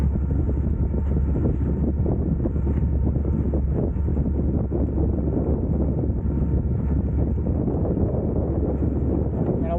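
Steady wind blowing across a sailboat under sail with its motor off, a constant low rushing roar with buffeting on the microphone, loud and unbroken, with no talk.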